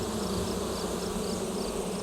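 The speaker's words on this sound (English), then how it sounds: "Back in the echinacea, the bees continue their work." Bees buzz continuously among echinacea flowers at an herb farm, a dense steady drone close by with no voices over it.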